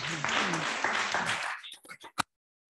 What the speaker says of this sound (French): On peut vous applaudir, madame.